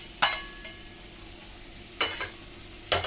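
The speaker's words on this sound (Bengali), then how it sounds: "চিংড়ি মাছটাকে ভালো করে ভেজে নেব, হালকা করে।" Prawns fry lightly in mustard oil in a pan, a soft steady sizzle broken by three sharp spatula scrapes and stirs.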